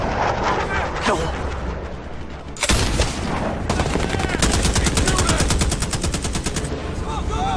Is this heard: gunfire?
yes